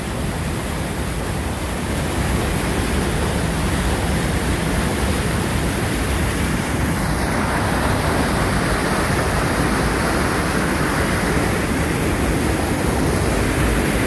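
Fast-flowing water of the Upper Ganga Canal at Sanota, Bulandshahr, rushes in a steady, loud, broadband roar that stays unbroken and even throughout.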